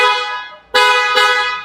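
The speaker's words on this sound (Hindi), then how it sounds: "उसके अलावा जो हॉर्न हमने ऐड किया इसमें" An aftermarket Hella car horn fitted to a Tata Nexon sounds one long blast, then two short loud honks in quick succession, close by with no talk.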